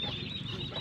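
Geese or ducks among mixed poultry beside a river give a short, nasal honking call close by, lasting under a second.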